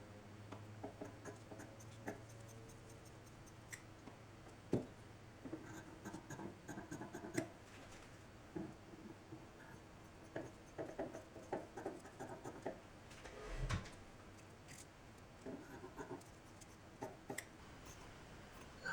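Scissors cut out costume pattern pieces for a Wicked Witch replica costume, a faint, quiet run of small snipping and paper-rustling ticks that goes on steadily for the whole stretch.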